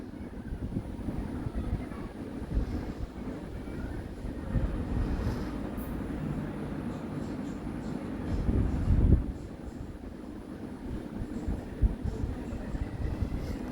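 Metro rail train at an elevated third-floor station, a low steady rumble with a swelling pass near the middle, moderately faint, with little talk.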